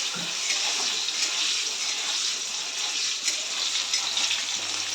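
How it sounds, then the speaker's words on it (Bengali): Diced potatoes salted and frying in a pan for a paneer dish, a steady broadband sizzle running unbroken and close throughout, with no talking over it. "একটু ভাজা ভাজা হোক।"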